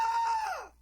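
A human voice imitates Galactus, the World Devourer, screaming: a single short strained cry held at one pitch, then sliding downward and fading out.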